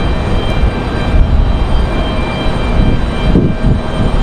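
A Republic Airways airliner comes in to land, its engines a steady, loud, broad roar that holds throughout with no talk.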